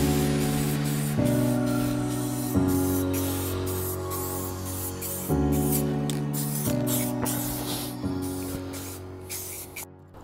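An indium grey rattle can sprays paint onto MR2 Spyder parts: about five long, close hissing bursts in a row, each with a faint tonal whine and separated by quick breaks.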